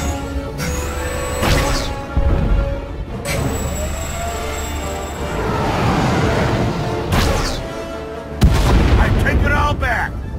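Starship weapons fire in Star Wars The Old Republic, a run of loud booming blasts and crackling bursts over a steady engine-like drone, with a few sharp impacts near the end.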